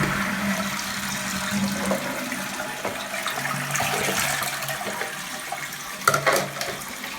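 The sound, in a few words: toilet cistern trickling and refilling with water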